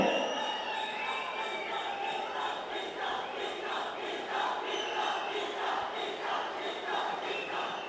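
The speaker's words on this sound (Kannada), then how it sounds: "ಜೋರಾದ ಚಪ್ಪಾಳೆ" An audience at a stage event for Sandesh Nagaraj's 80th birthday celebration claps and cheers loudly, a dense, sustained wash of applause and crowd voices that keeps going without a break.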